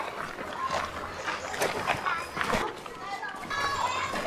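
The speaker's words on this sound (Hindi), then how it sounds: "ये कुत्ता क्यों भौंका?" A dog barks outdoors in a natural setting, heard alongside children's voices and close adult speech that stays on top for most of the stretch.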